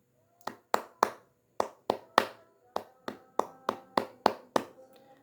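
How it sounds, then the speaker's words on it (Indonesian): One person performs the scout clapping pattern (tepuk pramuka): about fourteen crisp, close hand claps in a rhythmic sequence of short groups with brief gaps, loud and alone. "Tepuk pramuka itu yang seperti ini."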